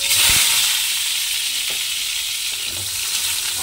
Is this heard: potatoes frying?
yes